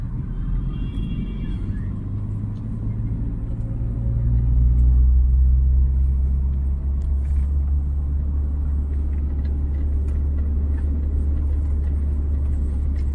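A car rolls along a small road during a driving lesson, its engine a low steady rumble that swells after a few seconds into a heavier drone, held close and fairly loud throughout without talk.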